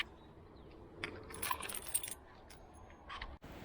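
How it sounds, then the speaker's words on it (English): Car keys dropped and jangling at a used car dealership: a quick metallic rattle and clink of the bunch landing, close and brief, in an otherwise quiet room. "Oh, dropping keys."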